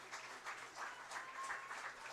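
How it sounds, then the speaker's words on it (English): Fans at a high school boys' soccer senior night applauding from the stands, faint and distant clapping coming in soft uneven waves under a low steady background. "the Tigers right now getting a round of applause from"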